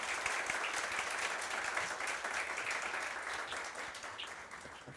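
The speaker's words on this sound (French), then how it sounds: "d'applaudir très chaudement, s'il vous plaît" Warm audience applause at a televised quiz show taping, dense sustained clapping from a crowd that slowly tapers off toward the end, moderately loud with no talk.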